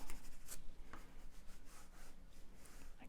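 Black pencil scratching across paper during a drawing lesson, a steady soft rubbing texture with brief firmer strokes, close and fairly quiet, with no voices.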